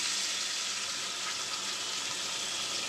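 Milk-cream paste is added to a frying spice masala, giving a soft, even sizzle that hisses quietly and steadily throughout.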